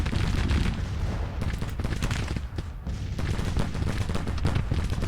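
Rolling volleys of long-range musket fire from Civil War infantry in Grand Tactician: The Civil War, a dense crackle of many distant shots blending into a steady roar.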